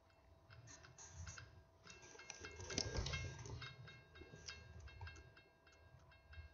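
A Long Island Railroad train passing, a faint low rumble that swells around the middle, with repeated rail clicks and a thin steady whine, no talk.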